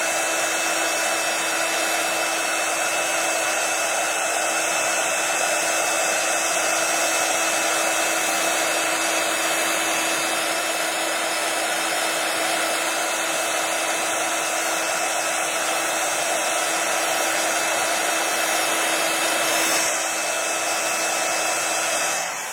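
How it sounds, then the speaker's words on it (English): A heat tool blows hot air steadily onto a journal page, a loud, continuous whooshing whir held close for about twenty seconds with no talking. "It turns and I move my heat tool immediately."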